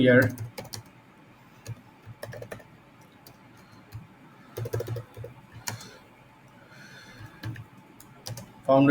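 Someone types on a computer keyboard in bursts of close, crisp key clicks with pauses between them, and a voice talks briefly at the start and end.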